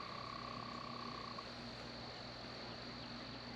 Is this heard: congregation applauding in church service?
no